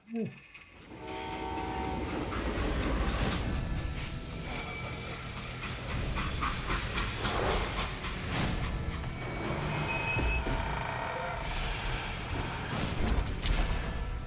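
A freight train in the video game Call of Juarez: Gunslinger rumbles loudly and steadily, with clattering wheels and a horn, continuous and close throughout.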